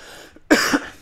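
A single sharp, throaty cough from a person close to the microphone breaks a near-silent moment, with a short rough tail afterward.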